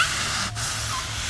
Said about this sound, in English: I'm just going to spray it directly onto it